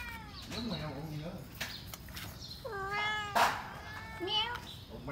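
A six-week-old kitten gives several high, wavering meows close by, one rising into a louder cry, with soft background noise between the calls.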